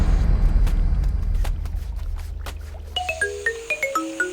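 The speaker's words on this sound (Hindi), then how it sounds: "मुझे क्यों फोन कर रही है?" A phone ringtone signals an incoming call, rising out of a low rumble as a bright, repeating chiming melody of descending notes that is clear and close.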